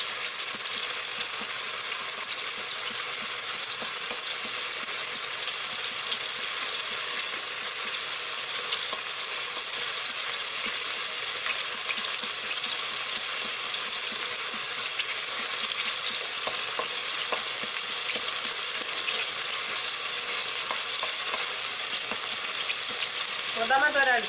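Garlic browning in a pan for vegetable soup, a continuous loud sizzle with small crackles throughout, close and alone.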